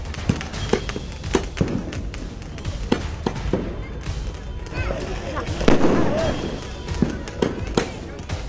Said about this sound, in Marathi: मुंबईत दिवाळीत फटाक्यांची आतषबाजी सुरू आहे।